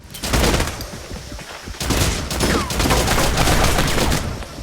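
Constant rapid gunfire rattles nonstop in a shooter video game during a Nectar overdose rage mode, loud and close, dense bursts of shots running through the whole stretch with no talk.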